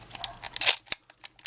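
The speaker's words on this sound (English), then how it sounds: "cock the shutter there." A Canon A-1 film camera's shutter is cocked, giving a quick series of close mechanical clicks and a ratcheting lever stroke, followed by a sharp snap and a few lighter ticks.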